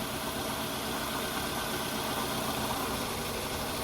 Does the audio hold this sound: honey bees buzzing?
no